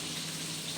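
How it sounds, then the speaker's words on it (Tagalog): Fish frying in a pan gives off a steady, soft hiss and sizzle, faint and continuous, with no other sounds standing out. "Pinirito ko na po dyan."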